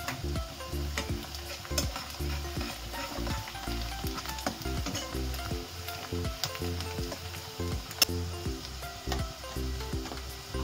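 Onion sautéing in a pan ahead of a ground coconut, coriander and garlic paste, rhythmic spatula stirring strokes over a continuous moderate sizzle, no voices.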